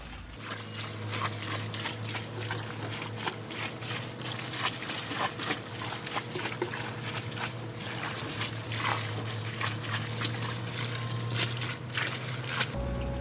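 Cold tap water runs steadily over chili peppers being washed, a continuous trickling and splashing stream with a low hum underneath, fairly close and unbroken throughout.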